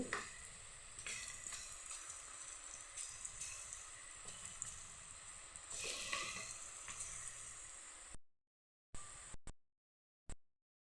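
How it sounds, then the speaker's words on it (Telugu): Peanut pakoda frying in hot oil in a kadai, a steady close sizzle with occasional bursts of bubbling, then cutting out into silence broken by a few brief snatches. "ఆయిల్ పెట్టుకొని బాండ్లీలో ఒక్కొక్కటిగా ఇలా వేసుకోవాలి."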